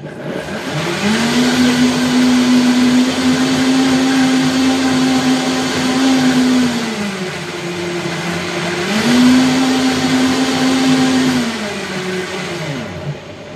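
A blender whirs loudly and steadily as it mixes a healthy protein breakfast snack, running in two long sustained bursts with a brief dip in pitch between them, no voices over it.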